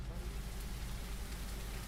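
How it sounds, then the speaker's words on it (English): Steady, soft light rain plays from an ambient sound app as a continuous even hiss with no distinct drops standing out. "A light rain."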